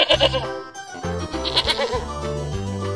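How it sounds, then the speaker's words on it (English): A goat bleats in a run of several wavering, nasal cries over a steady low musical backing, close and fairly loud. "Goat."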